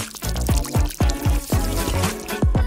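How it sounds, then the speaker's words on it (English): Water is poured into a plastic detergent bottle, producing a run of rhythmic glugging gulps with rising tone, loud and close, with no talking over it. "Just add water."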